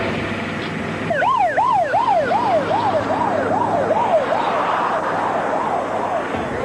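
A rescue vehicle's wailing emergency siren rises and falls in steady, rapid cycles, loud and close, over a low engine rumble, responding to an incident on a bridge.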